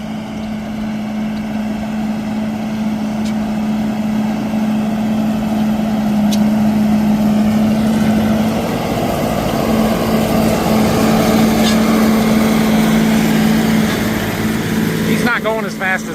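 A tractor driving across a planting field, its engine holding a steady drone up close and loud throughout, with a brief rattling change near the end.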